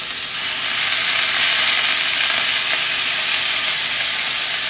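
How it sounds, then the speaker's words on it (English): Shaoxing cooking wine splashed into a cast iron pan of mushrooms over medium-low heat, giving a loud, steady, close sizzle with a broad hiss that holds evenly throughout. "Next, I'm gonna add some cooking wine"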